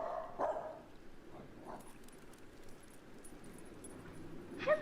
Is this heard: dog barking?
yes